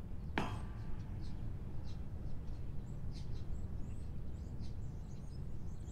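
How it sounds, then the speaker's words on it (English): Birds chirp faintly in the distance in The Stanley Parable's outdoor scene, a scatter of short high calls over a steady low ambient rumble, with a sharp click near the start. "Oh, you can hear the birds and everything."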